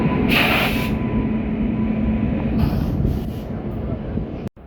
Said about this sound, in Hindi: ये लोकोमोटिव लगेगा अपनी ट्रेन में भी, WAP7 ये रोड का